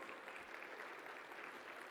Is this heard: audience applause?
yes